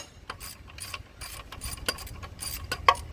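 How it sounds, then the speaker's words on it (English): A 7/16 ratchet wrench loosens nuts from bolts on a Honda pressure washer, making a rapid series of close, crisp clicking ratchet strokes in short bursts. "I'm just taking these 4 nuts off of these bolts"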